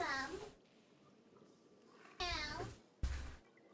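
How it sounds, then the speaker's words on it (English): A house cat meows at a door, giving a few short, close calls separated by quiet pauses, with a brief further cry near the end. "I'm gonna let the cat in because she is meowing my door down."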